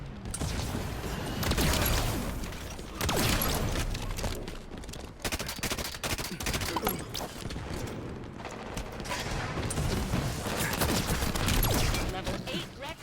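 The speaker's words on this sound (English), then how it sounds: "Number 15 is Didact Signet, a shotgun with projectiles that ricochet off the wall and home onto enemy targets" Didact Signet shotgun blasts sound in Halo 5 gameplay, with repeated loud shots and mechanical clanks arriving in bursts over continuous game action.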